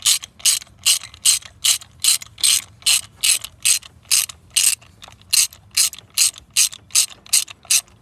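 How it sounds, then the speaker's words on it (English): A ratchet with a spark plug socket clicks in quick, even bursts while undoing the spark plugs on a 2013–2014 Mustang 3.7 V6, loud and close with steady rhythmic strokes and no talk. "Don't mind me just undoing my spark plugs in the middle of my apartment complex"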